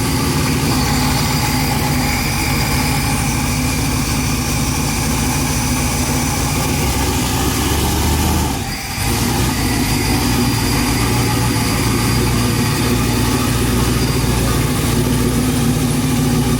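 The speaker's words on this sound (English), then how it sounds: "The idle's all messed up on it." A Mazda RX-7 engine idles continuously with a loud, uneven rumble caused by an open vacuum line, dipping briefly midway before settling back into its rough steady hum.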